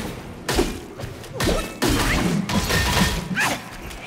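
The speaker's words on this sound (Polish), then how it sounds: "się tłucze te kokony." Cocoons smashed in the video game Black Myth: Wukong, several loud crashing impacts with swooshes in an uneven rhythm, without talk.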